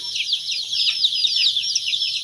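Chickens clucking and chirping in a busy, overlapping chorus, fairly close and steady throughout, with no talking.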